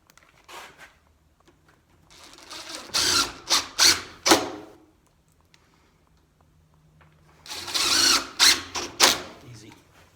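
Cordless screw gun driving two small screws into a door lock on a prehung split jamb door, heard as two close bursts of whirring with rapid clicking pulses, separated by a quiet pause.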